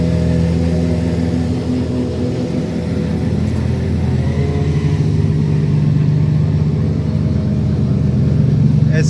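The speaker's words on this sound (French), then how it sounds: "Là, il est en train de chauffer le différentiel. Et le moteur par la même occasion, c'est un 2JZ avec un turbo de la taille d'un bébé." A Toyota 2JZ engine with a very large turbo, fitted to a dragster, idles and runs steadily to warm the differential, a loud, close, continuous low rumble with slight surges, with someone talking over it.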